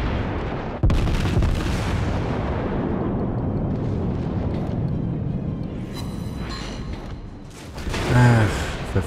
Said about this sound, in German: Und dann hauen wir doch mal ein paar Schüsse in die liebe New Orleans.